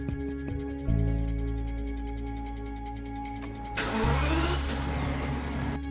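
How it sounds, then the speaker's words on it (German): A BMW 7 Series E65 engine cranks and starts, then settles into a steady idle, and a second start follows with a brief rev before idling again, close and clear with no talking. "Fahrzeug starten und mindestens 2 Minuten laufen lassen."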